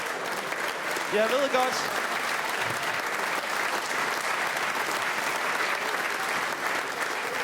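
Audience at a Danish stand-up comedy show bursts into sustained applause, a dense steady wash of clapping filling the room while the comedian speaks briefly over it.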